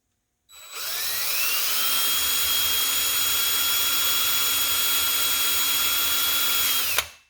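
A handheld power drill bores a hole through EVA foam held in the hand, whining loudly and steadily for about six seconds before it stops abruptly.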